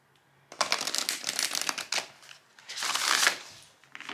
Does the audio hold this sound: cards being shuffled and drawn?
yes